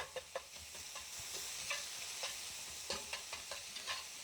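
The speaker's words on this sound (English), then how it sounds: "I'm just going to mix it up, let it cook a little longer all together as I break down the beef because I want little smaller pieces" Ground beef with herbs sizzles in a pan for shepherd's pie while a spatula breaks and stirs it, giving repeated close scraping taps over a constant frying hiss with no voices.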